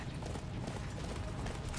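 A horse gallops in the Attack on Titan video game, its hooves a steady, fast patter of soft clops under faint mechanical background noise, fairly quiet and without talk.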